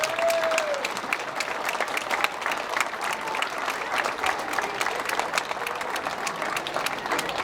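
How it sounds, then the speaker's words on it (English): Applause from an audience honouring the instructors of a martial arts school at its 30th anniversary celebration, a steady sustained patter of many hands clapping with no voices on top. "Let's give all these people a big, big round of applause."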